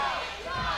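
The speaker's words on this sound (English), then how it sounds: "The crowd chanting now for the #1 contender." Wrestling crowd at an OVW TV show chanting for the number one contender, a dense roar of many voices filling the arena without clear break, steady and moderately loud.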